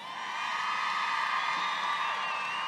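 A large crowd cheering at a political rally, a sustained roar of voices with whoops and shouts swelling and holding loud throughout.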